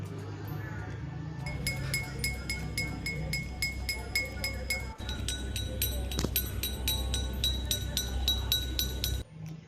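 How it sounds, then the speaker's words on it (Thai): Two drinking glasses struck in turn with bright, ringing clinks, each tone sustaining before the next strike; a steady low hum sits underneath throughout. "ในการตี แก้วน้ำทั้งสองใบนะคะเดี๋ยวคุณครูจะให้ฟังอีกรอบนึงนะคะ"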